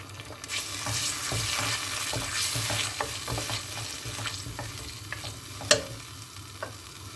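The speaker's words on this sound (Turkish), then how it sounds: "Şöyle domatesimi bir alayım. Biraz onu kavurayım." Tomatoes sautéing in oil in a pan for chickpea tarhana soup, a steady close sizzle and frying hiss with stirring scrapes and a few sharp utensil clinks.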